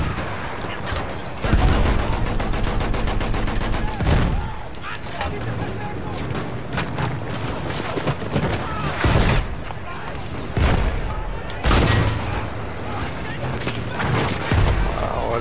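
Battlefield 1 combat with heavy rattling gunfire bursts and booming grenade blasts, loud and close, interleaved with in-game voices and battle noise.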